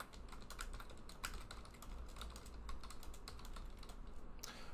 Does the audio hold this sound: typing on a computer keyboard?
yes